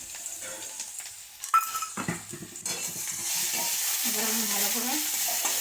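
Onion, garlic and ginger paste with turmeric frying in a pan for a spinach egg curry, starting with spoon and utensil clatter, then a sustained close, loud sizzle that fills the rest of the clip.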